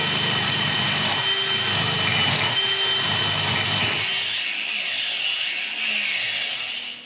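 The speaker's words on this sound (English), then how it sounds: "I need to flatten this area around here, and I'll do that with a Forstner bit." A drill running a Forstner bit bores into a rough mallee burl, giving a loud, close, continuous grinding whir that rises and falls slightly as the bit bites the wood, with no talk.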